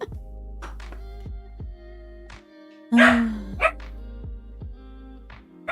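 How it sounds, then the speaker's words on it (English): A neighbours' dog barking near a door: one loud bark midway and a quicker second one, set against a repeating low tonal background with no speech. "she's come closer to the door to bark at us now"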